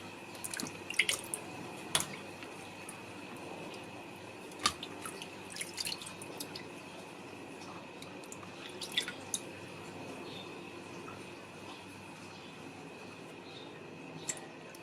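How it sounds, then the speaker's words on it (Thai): Aloe vera leaves soak and are rinsed in water, giving scattered drips, small splashes and wet squishes over a steady faint background, close by and fairly quiet, with no speech. "แช่ ล้างใบให้ดีนะคะ"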